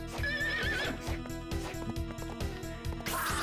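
In the Castlevania: Dawn of Sorrow video game, a horse gives a brief whinny early on, heard over looping game music with a steady, thumping beat.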